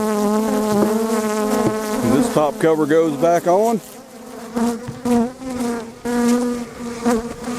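Honey bees buzz loudly around an open hive with a laying worker as its top cover goes back on, their overlapping whine rising and falling close by while someone talks briefly.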